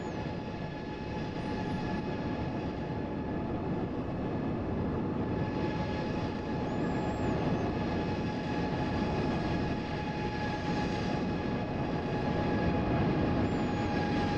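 An airliner takes off at Hong Kong airport in Microsoft Flight Simulator 2020, a steady, loud, broadband engine roar with constant high tones that holds throughout without talk.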